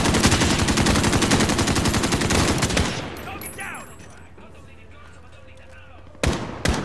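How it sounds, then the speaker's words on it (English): Rapid video game gunfire rattles in a dense, loud burst for about three seconds, then cuts off to a quieter background before two short shots crack near the end. "That only took two shots to kill that guy."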